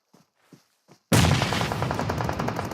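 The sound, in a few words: gunshots in a video game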